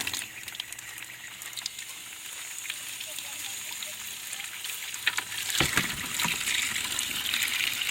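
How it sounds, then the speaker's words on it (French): Ten litres of water pour from a container onto nettles in the bottom of a watertight bin, a steady gushing rush throughout that swells louder past the midpoint. "Et on va rajouter tout simplement 10 litres d'eau."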